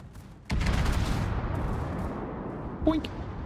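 Naval guns on a warship in World of Warships firing armour-piercing shells: a sudden heavy boom that rolls into a long rumbling tail, with a brief smaller impact sound near the end and a voice speaking faintly over it.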